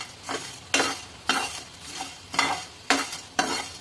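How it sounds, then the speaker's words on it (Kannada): Whole spices for homemade garam masala dry-roasted and stirred in a pan, with repeated rhythmic scraping strokes about every half second over a soft sizzle, close and fairly quiet, with no talking. "ಚೆನ್ನಾಗಿ ಹುರ್ಕೊಳ್ತೀನಿ"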